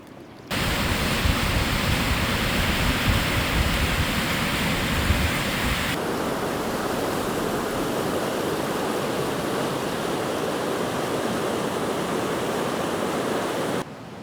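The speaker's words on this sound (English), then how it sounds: "Oh, the Yellowstone River is really flowing." The Yellowstone River in spring melt flood roars as a steady, dense rush of water, loud and unbroken from start to finish with no voices over it.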